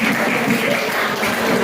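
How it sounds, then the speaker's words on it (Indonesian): A group claps together in a brief, steady burst of applause, fairly close and even in loudness. "tepuk tangan buat kita"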